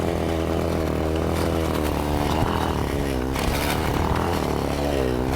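A bicycle fitted with a built-in petrol engine accelerates on a track, its small motor giving a loud, steady buzzing drone that climbs in pitch as it revs, close and continuous with no pause.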